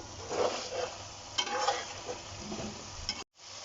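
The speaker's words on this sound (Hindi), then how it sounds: "अब मैं इसको तेज आंच करके भून लूंगी।" Chicken biryani masala with yogurt fries on high heat in a pan while a spoon stirs it, giving soft scraping strokes over a low, steady sizzle that cuts off abruptly near the end.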